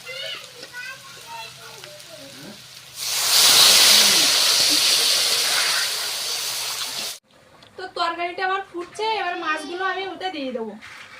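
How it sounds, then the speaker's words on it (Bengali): Water poured into a hot pan of fried potato masala sets off a loud rushing hiss of steam that slowly eases off, with talking before it and after it stops. "তো আলু মশলাটা আমি ভালোভাবে কষিয়ে নিয়েছি এবার জল ঢেলে দেবো"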